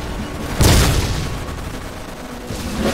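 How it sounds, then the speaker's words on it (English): Gunfire in the Codename: Panzers Phase Two war strategy game, one heavy close blast near the start followed by a lingering rumble and a fainter shot at the end over steady battle noise. "They're shooting at us!"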